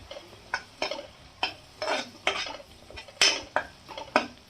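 A spoon stirs masala with turmeric for a paneer matar masala in a pan, scraping in about ten steady, close, rhythmic strokes with clinks against the metal and a faint sizzle between them.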